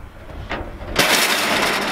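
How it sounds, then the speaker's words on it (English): Bolt cutters snip a length of metal greenhouse frame wire, a short crunching snap followed by a brief rush of noise, close and fairly loud. "Take a set of bolt cutters and cut it."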